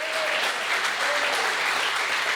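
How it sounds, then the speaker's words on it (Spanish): A church audience at a Bible study on Romans breaks into applause, a thick even wash of many clapping hands, loud and continuous for a couple of seconds, with no talking over it. "El Chato dice, esto merece un aplauso."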